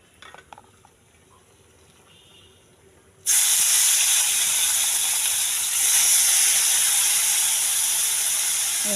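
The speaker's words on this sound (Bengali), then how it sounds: "ছোটো মাছগুলো দিয়ে দিলাম তেলের মধ্যে" Small fish dropped into hot oil in a pan, bursting into a sudden loud, steady sizzle and hiss that starts abruptly after a quiet moment and continues strongly to the end.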